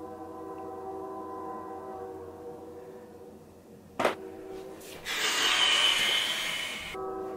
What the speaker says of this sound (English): there's this train going by and I just gotta stop